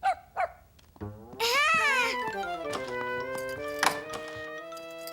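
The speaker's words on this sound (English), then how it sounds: "he's only a little puppy" A little cartoon puppy gives two quick, sharp barks, then a longer run of whining, yappy cries, close and loud over light background music.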